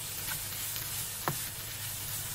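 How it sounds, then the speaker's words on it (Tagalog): Chicken filling with vegetables and coriander bubbling in a pan, giving a steady, moderately loud sizzle with a few brief stirring scrapes and no voices. "ilalagay ko na yung coriander and then isi-simmer ko lang siya hanggang sa maluto na yung aking gulay"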